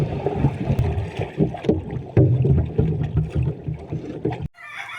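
Rushing wind and churning water at sea, loud and continuous with rumbling gusts, cutting off abruptly near the end.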